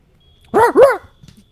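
A person imitates a dog during a tabletop role-playing session, giving two quick, loud, close woofs in a row, followed by faint background sounds.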